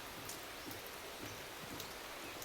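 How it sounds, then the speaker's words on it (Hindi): Heavy monsoon rain pours down steadily outdoors under dark clouds, a dense, continuous hiss of drops close by with no talking. "तो भैया देख लो पीछे कितना तेज बारिश होता है।"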